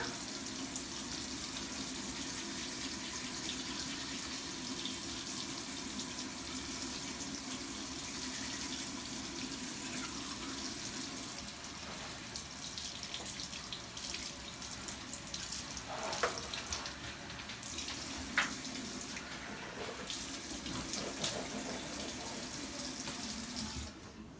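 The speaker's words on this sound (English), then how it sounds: "I'm going to make sure to brush my teeth and floss so that way my teeth are clean." A bathroom faucet runs steadily and close for the whole stretch while someone brushes teeth, a continuous hiss of flowing water with slight changes in the stream and a few small knocks.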